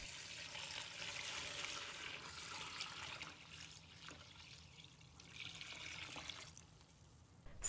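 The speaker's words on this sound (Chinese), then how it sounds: "倒入清水" Clear water pouring from a tap into a basin holding water spinach, a faint hissing trickle that gradually fades, quiet and close.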